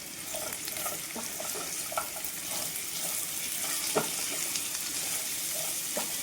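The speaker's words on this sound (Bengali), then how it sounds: "হালকা ভেজে নিয়ে ডাঁটাটাকে দিয়ে দিলাম" Vegetable stalks fry and get stirred in a pan of fish curry, with a steady sizzle under scattered clinks and scrapes of the spatula, close and alone.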